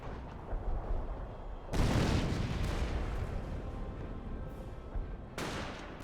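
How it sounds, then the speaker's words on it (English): An on-map artillery barrage rumbles through a Company of Heroes battle, with a heavy explosive blast followed by a long rolling roar and a second sharp impact, set against a constant din of battlefield noise. "It is an on-map artillery barrage."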